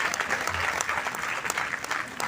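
Applause from the audience at a 2022 Azadi Ka Amrit Mahotsav cultural program put on by children, a steady, dense clatter of many hands clapping throughout, fairly loud and continuous, with a light murmur of voices mixed in.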